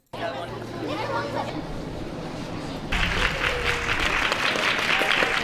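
Applause for Zelensky at Downing Street from a gathered crowd of Ukrainians with flags, starting under chatter and voices, then swelling into louder sustained clapping for the last few seconds.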